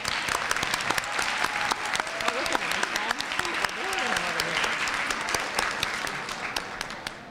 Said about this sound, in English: but first let's give them another round of applause.